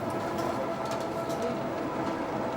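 Steady rumbling roar of a Tokyo subway train running along the line, a dense continuous rattle with no pauses.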